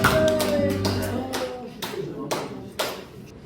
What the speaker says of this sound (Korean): 주님 앞에 영광의 박수 올리고 있습니다.